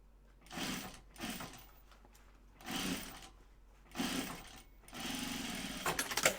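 Sewing machine stitching vinyl in bursts, four short runs of rapid mechanical chatter separated by pauses, then a longer continuous run, close and fairly quiet.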